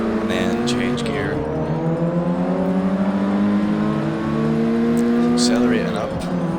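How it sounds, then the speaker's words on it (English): Ford Focus ST engine revving hard in the racing game Forza 6, held at high revs through wheel spin before a gear change, a steady loud drone with rising harmonics under continuous talk. "keeping the revs up high all the way until the wheel spin goes away, and then change gear."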